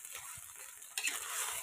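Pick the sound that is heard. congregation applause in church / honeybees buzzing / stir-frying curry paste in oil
stir-frying curry paste in oil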